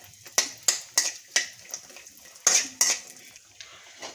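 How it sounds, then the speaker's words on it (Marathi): Cashews being stirred in a pan with a little ghee, heard as a series of sharp, close spoon-on-metal clinks and scrapes in an uneven rhythm, with only a faint sizzle beneath and no talking. "आता मी अर्धा चमचा तूप घेते, त्यात हे काजू आपण परतून घेऊया।"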